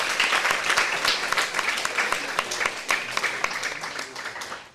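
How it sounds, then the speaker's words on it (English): Applause from a debate audience, a full, even burst of many hands clapping that holds steady and then slowly thins out near the end, with a few voices faintly under it. "We can give a round of applause to that"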